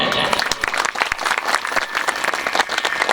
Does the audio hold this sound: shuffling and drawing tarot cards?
no